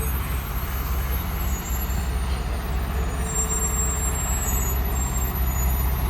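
A heavy police-escorted STGO Category 3 truck hauling a transformer rumbles steadily past with a deep, continuous engine drone and brake noise, loud and close, with no talk.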